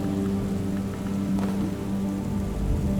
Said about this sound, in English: But a storm doesn't really do too much here.